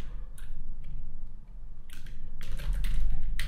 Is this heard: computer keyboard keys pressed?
yes